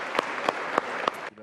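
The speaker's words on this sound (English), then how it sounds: "There was applause in the Ukrainian parliament after the appointment of Yulia Svyrydenko." Applause in the Ukrainian parliament after Yulia Svyrydenko's appointment as prime minister: a short burst of clapping with four sharp, evenly spaced clicks, ending abruptly.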